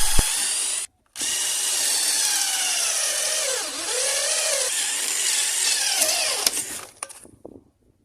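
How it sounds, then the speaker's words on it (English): A power drill whines steadily through a boat's wooden hull, briefly stopping once, its pitch sagging under load before it breaks through and winds down. "and drilling until I broke through it."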